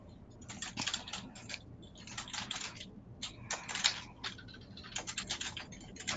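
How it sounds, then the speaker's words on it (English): Quick bursts of typing on a computer keyboard, keys clicking in irregular runs with short pauses between them, fairly close. "if you just hear me typing in the background"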